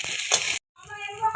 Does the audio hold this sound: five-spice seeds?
yes